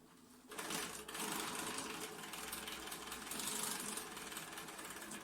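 A sewing machine stitching a paper-pieced block, starting with a few securing stitches and running as a steady, close, fast mechanical whir that holds without a break.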